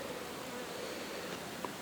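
A dense, steady buzz of many honeybees humming together close by in a clustered hive colony, continuous with no voices.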